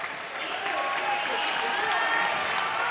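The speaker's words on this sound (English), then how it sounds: "Crowd starting to get into it a little bit" Cheering and clapping from a crowd at an indoor track race fill the clip as a steady, dense wash of noise that builds slightly toward the end, with an announcer talking over it.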